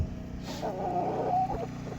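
A backyard chicken clucks nearby in a low, quiet burst of a few throaty notes beside an off-grid coop, with no talk over it.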